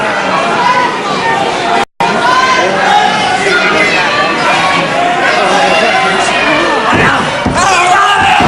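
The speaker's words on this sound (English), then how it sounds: "the packed crowd here screaming for Gray to come at McManus" A packed crowd at a 1977 UK wrestling bout roars and screams continuously, loud and close, with a brief dropout near the start and sharp slaps or thuds breaking through near the end.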